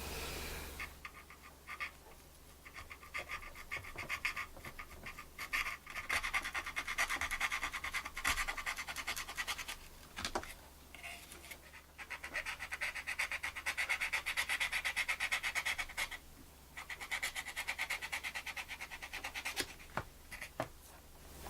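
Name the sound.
scalpel carving plastic model part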